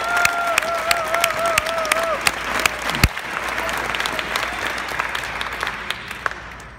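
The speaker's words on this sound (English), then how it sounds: "How about a quick round of applause for these inspiring women?" Sustained audience applause at a charity celebration, with dense clapping, a few sharp close claps standing out and brief cheering or whistles at the start, then a gradual tapering.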